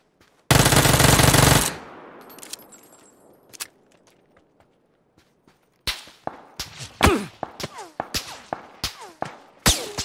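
Gunfire in the battle royale video game PUBG: a long loud burst of automatic fire at the start, then a string of sharp single and rapid shots with whip-like cracks, some near and some farther off.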